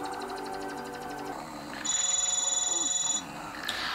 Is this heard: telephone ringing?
yes